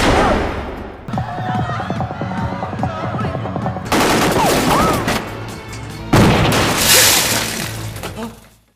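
Rapid gunfire bursts crackle through an action-film police shootout, with sharp shots, impacts and a loud crashing section, backed by dense score and effects throughout.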